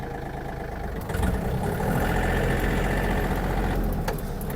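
Yanmar US-324 mini tractor engine running in a higher gear, a steady close diesel drone that grows slightly louder after the first second and holds without a break, with no voices.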